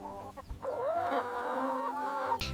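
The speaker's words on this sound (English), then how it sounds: "This is a hen." A hen clucks and calls close by, a short run of warbling, wavering notes over about two seconds with faint background noise and no talk.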